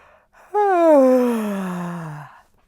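A single long, drawn-out vocal yawn that slides downward in pitch over about two seconds, close and loud, with no other sounds.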